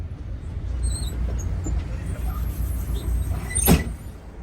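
A steady low engine rumble and road noise fill the cabin of a moving intercity bus in India, with a brief clatter near the end and faint speech in the background.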